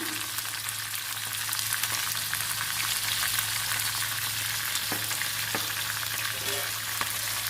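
Curry leaves and turmeric fry in a pan with a steady, close crackling sizzle that holds throughout, broken by a few brief scrapes of stirring.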